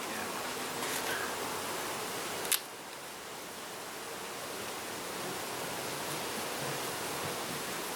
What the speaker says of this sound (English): There's a good number of bees up top.